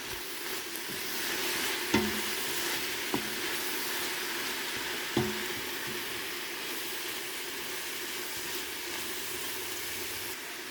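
Vegetable soup being stirred in a pot, a few distinct spoon scrapes and knocks over a steady low simmering hiss.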